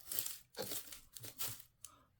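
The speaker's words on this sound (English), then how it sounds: "We'll cut these off." Paper being cut for a junk journal, close and fairly quiet, heard as a few separate crisp snipping and tearing rustles with short pauses between them and no voices.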